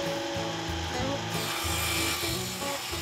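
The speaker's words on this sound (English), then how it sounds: "Each board is then cut by hand." Wooden toboggan boards are sawn by hand in a workshop, a steady rasping stroke repeating in a close, continuous rhythm with no pauses.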